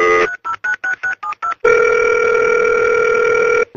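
Telephone ring-back tone on an unanswered call: a quick series of short pulsed beeps, then a long steady tone that cuts off briefly before resuming, loud and close with no talking.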